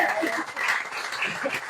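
An audience at a bookstore talk claps warmly in a brief, dense burst that swells and dips in loudness, with a few murmurs and a chuckle mixed into the clapping.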